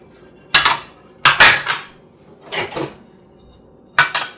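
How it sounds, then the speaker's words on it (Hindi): Clean dishes and cutlery being unloaded from a dishwasher and put away: four bursts of clattering ceramic and jangling metal, close and loud, separated by short quiet gaps. "सबसे पहले तो डिशवॉशर को खाली किया जाता है, यानी अंदर जो धुले हुए बर्तन होते हैं उनको आप पहले अपनी जगह पे रखिए।"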